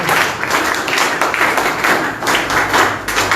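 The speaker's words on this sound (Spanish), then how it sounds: "François Novarro, fuertes palmas, por favor" Brisk clapping from a party gathering greets a local party general secretary, a steady patter of many hands that swells and dips without letting up.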